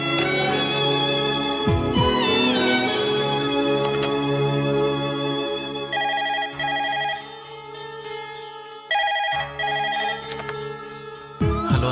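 A telephone rings in repeated electronic bursts, cutting in and out between pauses, heard over sustained background music.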